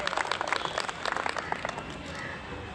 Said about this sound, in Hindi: तो एक बार तालियों की जोरदार गड़गड़ाहट से डॉक्टर साहब को स्वागत करा जाए।